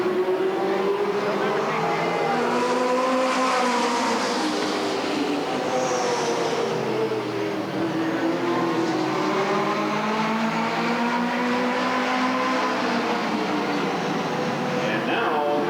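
Race cars roar around the Redwood Acres Raceway oval in a continuous droning pack, engine pitch rising and falling as they pass, loud throughout with an announcer talking over it.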